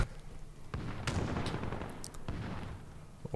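Gunfire in Call of Duty Modern Warfare (2019), with a sharp shot near the start and a burst of cracks around the middle over a steady rumbling game backdrop, fairly faint throughout.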